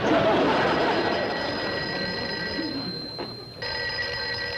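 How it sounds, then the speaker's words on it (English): A telephone rings in an office conference room with a steady electronic tone, loud and near, running continuously over a dense background of room noise, with a brief dip before the ringing resumes. "Somebody answer the phone."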